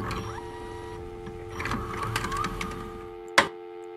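A VHS tape loads into a VCR with a mechanical whir of motors and steady tonal hum, then a single sharp clunk near the end as the mechanism seats.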